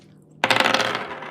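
Dice tumbling onto a hard surface for a tarot-style reading, a sudden loud clatter of rattling bounces that dies away over about a second, heard alone without talk.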